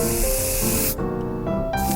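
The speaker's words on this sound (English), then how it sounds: "Bug spray. You be safe with that." Bug spray hisses in the video game 60 Seconds Reatomized, a loud, steady aerosol spray that cuts out briefly and starts again over continuous background music.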